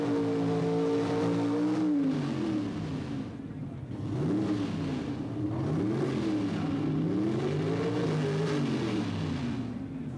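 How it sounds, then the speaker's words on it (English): A Pro Stock drag racing car doing a burnout to heat its tires, the engine droning loudly and steadily with its pitch rising and wavering through repeated revs. "The next stop for our Pro Stock driver is in the burnout area, where he'll heat, warm the tires"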